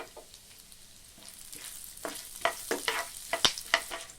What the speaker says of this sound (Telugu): ఇందులోనే మనం తీసి పెట్టుకున్న కరివేపాకును కూడా వేసి వేయించుకోవాలి.